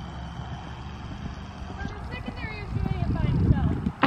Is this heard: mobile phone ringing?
no